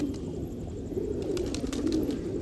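Pigeons on a rooftop coo in a low, continuous murmur close by, with a few brief higher calls on top.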